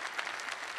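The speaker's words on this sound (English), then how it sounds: "Another round of applause for Janie" Audience applause for a presenter at a Microsoft Azure Kubernetes tech talk, a dense, steady clapping that fills the room without a break.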